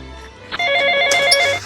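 A telephone rings with a steady electronic bell tone: a single sustained ring burst, close and fairly loud, with no talk over it.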